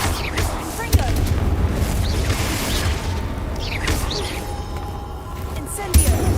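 A Confringo fire spell bursts with a boom amid the constant clamor of a Hogwarts Legacy battle against inferi, with sharp blasts near the start and end over dense magical combat noise.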